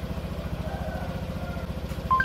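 Yamaha NMAX scooter idling close by, a low even putter with steady pulses, ending with a brief electronic beep just before the remote shutoff.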